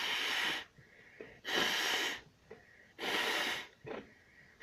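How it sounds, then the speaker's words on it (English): Three loud nose blows into a tissue, each a long forceful burst, separated by short quiet pauses with faint sniffs. "I had to blow my nose again."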